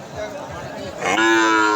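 A young calf moos loudly and close by at a cattle market, a drawn-out harmonic bellow rising toward the end over a busy, noisy background.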